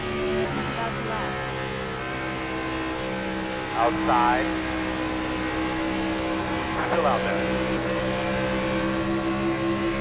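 Race cars lapping a speedway, a steady engine drone from cars circling the track, with a couple of louder passes rising briefly. People talk over a radio throughout.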